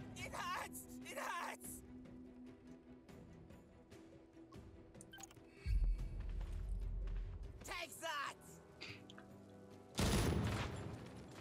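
Bursts of gunfire and fusillades from the Jagged Alliance 3 video game crackle in several sharp volleys, with deep booms between them and a voice talking over the quieter stretches.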